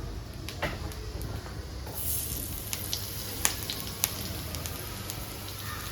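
Masala-coated fish frying in hot oil, a steady low sizzle and crackle with a few sharp pops, moderately close and without voices.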